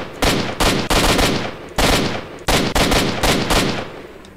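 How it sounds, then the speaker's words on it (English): Rapid automatic gunfire in the S.T.A.L.K.E.R. video game, several loud close bursts of shots separated by brief pauses, with no talking. "That was a lot of bullets for one bandit."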